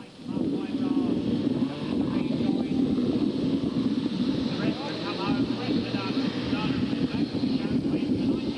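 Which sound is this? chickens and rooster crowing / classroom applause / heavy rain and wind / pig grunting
heavy rain and wind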